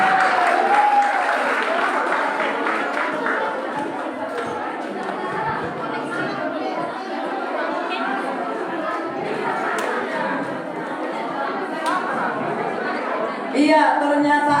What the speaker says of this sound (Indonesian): Dan kita boleh alurkan tepuk tangan untuk POC malam hari ini.